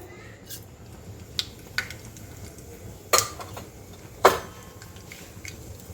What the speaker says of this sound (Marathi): आपलं मोरी जिरं छान तडतडलेलं आहे